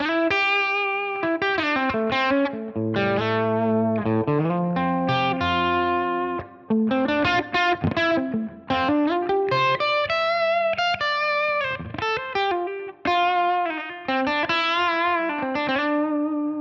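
Electric guitar on the bridge pickup through a modeled 84 ribbon microphone on a Line 6 Helix plays a lively lead line with bright, slightly distorted tone and some chordal stabs, steady and close with no talking.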